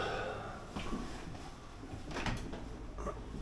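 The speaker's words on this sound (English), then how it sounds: "Oh, it's a tough door." A heavy, stiff door in St. Peter's Abbey in Ghent is pushed open, with low creaks and scraping thuds at moderate distance in a quiet interior.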